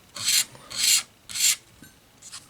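Three or four close rasping strokes of fine 1000-grit sandpaper rubbed across an acoustic guitar pickguard, each stroke a short burst separated by brief pauses, with no talking.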